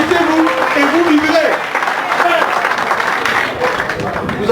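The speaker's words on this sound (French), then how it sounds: "Vous avez applaudi" Audience applause in a church or sermon hall, a steady broad wash of clapping from a crowd with voices mixed in, loud and continuous throughout.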